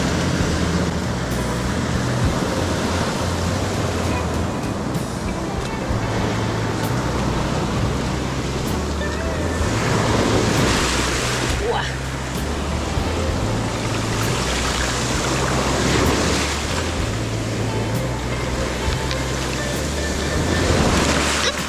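Cold ocean surf breaking at a Gulf beach at Stumps Pass after Hurricane Ian, a continuous roar of churning waves with periodic louder surges, mixed with wind rumble and no voices.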